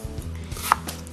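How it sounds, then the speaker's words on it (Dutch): A knife cuts through melon on a board in several quick, crisp chops, close and clear in a quiet kitchen. "De meloen. Ik begin eigenlijk eerst met repen te snijden."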